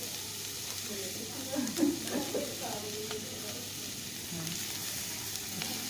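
A stir-fry with basil leaves and tomato sizzles in a pan while a spatula stirs and scrapes in a few clustered strokes, with soft frying hiss throughout.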